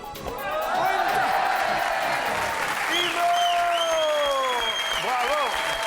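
A French game show studio audience applauding contestants, dense sustained clapping and crowd noise under bright, sweeping music stings and electronic jingles, loud and continuous.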